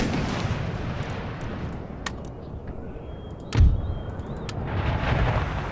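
Distant cannon and musket fire from a battle in Empire Total War: a low rumble of volleys with one heavier boom partway through, no voices.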